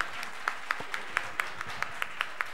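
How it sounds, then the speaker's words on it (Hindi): Clapping from an audience at a Jain religious program in Mayur Vihar Phase 1, Delhi: a soft wash of applause with roughly a dozen sharper, evenly spaced claps standing out in a steady rhythm, fairly faint overall. "मंगलाचरण के हिसाब से तालियां बजाते रहिएगा"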